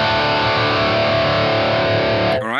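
A sustained distorted electric guitar chord through a BOSS GT Rectifier amp model rings out loud and thick, buzzing steadily before a quick pitch-bending squeal cuts in at the end.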